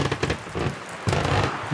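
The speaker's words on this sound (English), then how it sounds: "and it's raining" Rain falls steadily outside a yurt, a broad close hiss with a brief lull in the middle before it picks up again.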